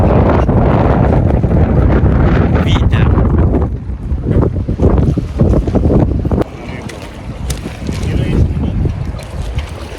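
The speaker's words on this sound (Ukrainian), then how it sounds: "подивіться, який вітер просто" Strong wind roars and buffets against the microphone at a fishing spot in Croatia, loud and gusty, easing slightly in later seconds with faint water sounds beneath.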